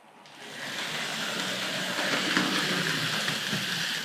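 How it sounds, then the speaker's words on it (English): A Hornby model tank locomotive runs along its track with a steady, close whirring rumble that stays even throughout, with no voices. "So ideally now the tank locomotive moves and the Dorchester will stay put."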